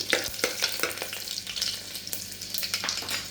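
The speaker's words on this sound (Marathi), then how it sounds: "त्यात आपण जिरे आणि मोहरीची फोडणी देऊन घेऊ" Garlic, a bay leaf, cumin and mustard seeds sizzle and crackle steadily in hot oil for a chhole tempering, with sharp little pops scattered through the frying hiss and no talking.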